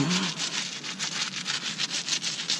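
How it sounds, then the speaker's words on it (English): Soft bristle brush scrubbing the brake calipers of a Maserati GranTurismo, a close, rapid back-and-forth rasping rub repeated in quick even strokes, no talking. "Take a little brush, soft bristle brush, work it to the bone"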